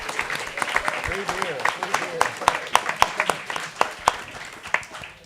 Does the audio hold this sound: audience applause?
yes